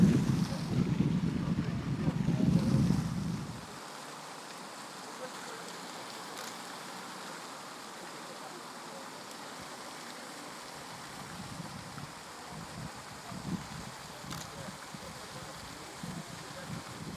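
Outdoor waterfalls send up a steady wash of falling water and spray, with a voice speaking briefly at the start before the rushing noise carries on alone, slightly gusty.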